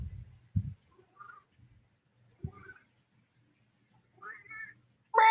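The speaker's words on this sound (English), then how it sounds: "Meow." A pet cat makes a few soft, short meows in a quiet indoor room, spaced apart with gaps of near silence, faint and close.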